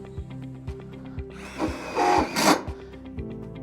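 A power drill drives screws into a standard 910-wide single wooden gate, giving a loud, whirring burst lasting about a second, over a backdrop of regular soft tapping clicks.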